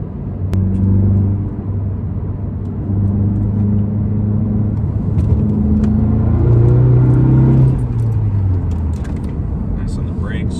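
A Volkswagen MK7 GTI hatchback, fitted with a single-mass flywheel, drones steadily as it is driven hard through turns, its engine note rising and falling with shifts and throttle, loud and close from inside the cabin.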